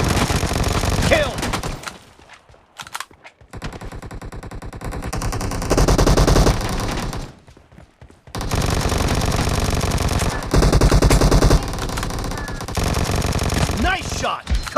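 Vector submachine gun firing in a video game, rapid bursts of automatic gunfire broken by short pauses, loud and close, with game voice callouts mixed in.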